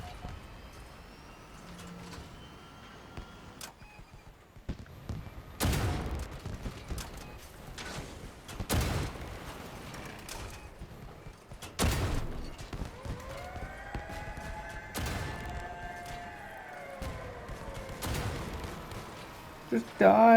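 CHARON weapons in the vehicle combat game Crossout firing in heavy bursts, loud booming shots every few seconds over mechanical clatter and a faint background, with a few brief tonal whines between blasts.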